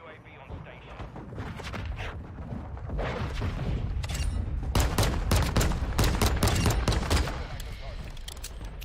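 Pistol gunfire in the Modern Warfare 2 video game, a dense run of sharp shots and explosive bursts over rumbling background battle noise.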